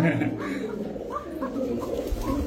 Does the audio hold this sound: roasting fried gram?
no